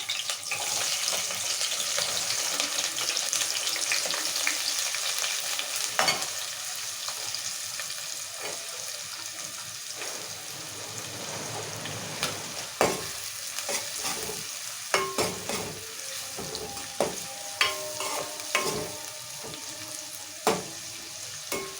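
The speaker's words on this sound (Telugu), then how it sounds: "ఉల్లిగడ్డలు మంచిగా దూరంగా వేయించుకోవాలి, ఎర్రగా వేయించుకోవాలి మంచిగా." Green chillies and onions frying in a pan for mutton fry, a loud continuous sizzle with repeated sharp spatula clanks and stirring scrapes toward the end, no talking.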